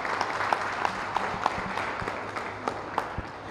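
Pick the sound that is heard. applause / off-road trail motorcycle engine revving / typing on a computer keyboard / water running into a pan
applause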